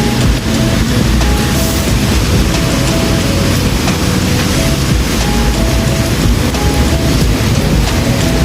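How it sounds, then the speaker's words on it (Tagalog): Steady heavy rain falls outdoors in a downtown area, a loud continuous hiss with deep low rumbling like thunder running beneath it for the whole stretch. "Maghapon na naman itong umuulan."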